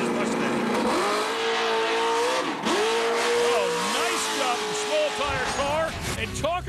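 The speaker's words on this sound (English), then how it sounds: "talk about doing a huge wheel stand" A drag racing car launches hard into a wheel stand at a wheel stand competition at a dragway, its engine howling and revving with a loud sustained roar and rapid pitch swoops as the throttle is worked, with commentary voices over the racket.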